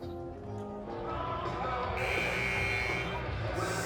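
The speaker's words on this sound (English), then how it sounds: "Second buzzer coming out of a Mohawk timeout" A loud, steady electronic buzzer sounds at a girls' varsity high school basketball game as play resumes after a timeout, holding for several seconds over a busy gym background.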